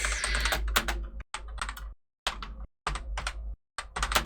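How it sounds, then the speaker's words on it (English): Loud, close clacking of fast typing on a computer keyboard in bursts of rapid keystrokes, broken by short silent pauses. "Don't mind the loud clacking on the keyboard."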